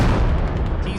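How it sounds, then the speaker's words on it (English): Heavy booming explosions in a military video game set in an urban combat zone, a dense loud rumble with thudding bursts packed into one second and no speech over them. "heading towards the explosions."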